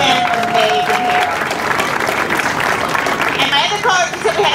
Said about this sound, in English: Let's give a round of applause to Andy.